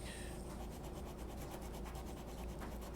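Sandpaper rubs back and forth over a Hydrocal plaster N scale model structure, a close, steady raspy scraping in quick repeated strokes with no talking.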